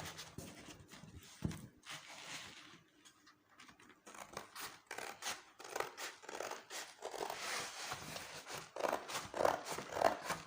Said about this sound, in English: Take your scissors, cut the shape out.